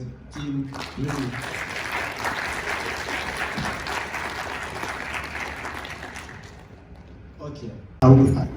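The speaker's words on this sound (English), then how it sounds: "Applause to the team." An audience at a conference in Poznań, Poland breaks into sustained applause that swells and then gradually fades, with short bits of someone speaking before and after it.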